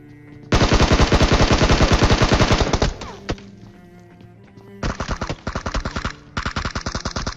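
Rapid automatic bursts of M4 assault rifle fire in a video game, one long sustained loud burst followed after a pause by two shorter bursts, crisp and close with no talking.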